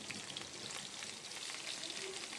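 Whole bay leaf, black peppercorns and whole garam masala spices sizzling in hot oil in a pan, a steady, dense crackle that keeps on without a break and stands alone with no talk over it.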